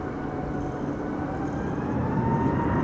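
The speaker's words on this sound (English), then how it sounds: "It's an A321neo taking off from 18 left." A KLM Airbus A321neo takes off from runway 18 Left at Amsterdam Schiphol in high winds, its engines giving a loud, steady broadband roar that swells slightly toward the end, with no other sounds over it.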